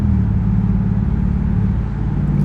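Deep, loud exhaust rumble from a straight-piped Dodge Durango RT V8, heard steadily from inside the cabin with a continuous low drone and slight throttle variation, no voices.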